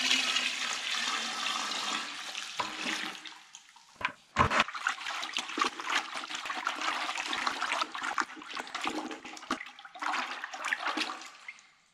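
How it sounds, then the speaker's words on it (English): Water from a bucket is dumped into another bucket of whitewash mix for a pine shiplap ceiling and stirred, a loud sloshing pour followed by splashing, churning liquid that continues with brief breaks. "Now that I got the same amount of water in another bucket, I'll go dump it in there and mix it up"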